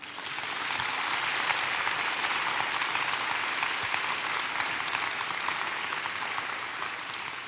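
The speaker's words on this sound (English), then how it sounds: "Let us applaud them now." Sustained applause from a commencement crowd honoring the families seated behind the graduates, a dense, even wash of many hands clapping that holds steady for several seconds.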